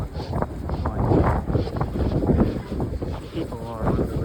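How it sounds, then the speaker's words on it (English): Strong gusty wind outdoors buffets the microphone with loud, uneven low rumbling bursts that rise and fall throughout, a voice talking underneath. "It's windy as all hell."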